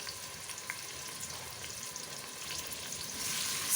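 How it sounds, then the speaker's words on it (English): Onions and spices fry in a pot for mutton biryani, a steady close sizzle with faint crackles and occasional stirring scrapes, swelling slightly louder at the end. "Stir this and let it fry nice and brown."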